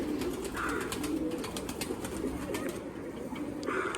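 A pet pigeon with a black body, grey ring and red markings coos in soft, repeated low calls close by, a few brief higher chirps and faint rustles in between, no talking.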